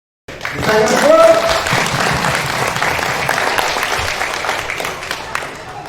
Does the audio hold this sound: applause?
yes